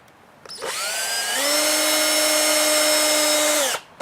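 A power drill drives screws into timber while building a raised garden bed, a single continuous whirring run of about three seconds that starts with a quick spin-up, rises in pitch partway through and then winds down, loud and close with no talk.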